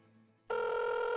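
A telephone starts ringing abruptly after a quiet moment, a loud, steady electronic ring tone that sounds close and continuous, with no one speaking over it.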